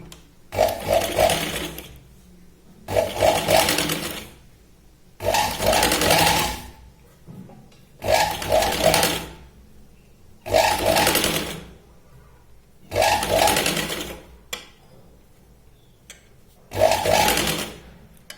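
Sewing machine stitching a Katori blouse: seven loud bursts of motor whir, each lasting about a second and a half, separated by short quiet pauses, close and alone.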